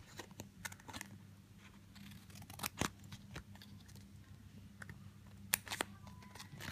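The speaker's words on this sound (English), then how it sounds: "Give it a little bit of a snip snip." Small scissors give several quick, crisp snips close by as they cut a nail art film wrap, scattered irregularly over a quiet room background.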